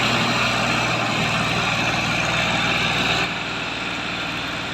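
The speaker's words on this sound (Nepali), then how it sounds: "ट्र्याक्टरले यसरी जोत्दो रहेछ" A tractor engine ploughing a field for rice planting drones close and steady, with a slight drop in level near the end and no talk.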